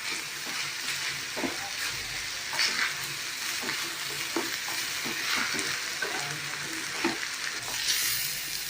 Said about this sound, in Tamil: தேங்காவை கலந்து விட்டுடலாம்